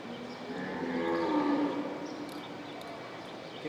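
Gray bulls bellow at a cattle show, a long low moo rising then fading across the middle of the clip, with steady arena murmur and faint background noise throughout.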